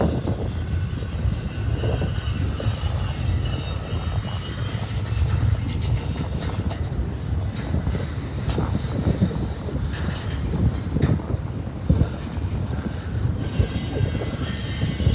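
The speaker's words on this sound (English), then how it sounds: "wait for this train to get out of the way" BNSF freight train rolling through Amarillo on the Transcon line, a steady loud rumble of railcars with persistent high-pitched wheel squeal and occasional clanks, continuous throughout with no talking.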